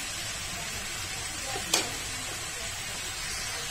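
Steady sizzling of a dal tempering frying in hot mustard oil, with one brief sharp clink partway through, close and even, no talking.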